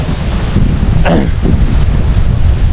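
Steady wind rushing across the microphone, a constant broadband roar with a brief brighter gust-like burst partway through; no talking.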